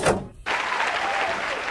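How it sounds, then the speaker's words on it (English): A short burst of audience applause starts abruptly after a brief gap and holds steady as a dense wash of clapping, fairly quiet. "can I get a round of applause for that first part?"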